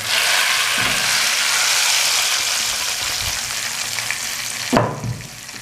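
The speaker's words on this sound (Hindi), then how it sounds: "अब हम दाल में तड़का डाल देंगे।" Loud crackling sizzle of hot cumin tempering poured into cooked moong and masoor dal, gradually easing, then a clink of a pan or utensil near the end.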